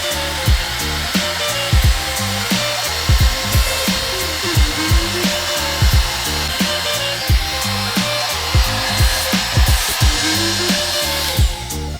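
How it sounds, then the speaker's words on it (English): A 5-in-1 hot air hair styler blows with a loud, steady whir close by, its airflow punctuated by repeated short thumps and bumps as it is handled. "Moving on to 5-in-1 hair styler"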